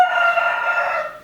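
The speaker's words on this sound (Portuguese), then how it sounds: "Então o galo cantou." A rooster lets out one long, loud crow close by, holding a strong, drawn-out call that fades away at the end, with no voices.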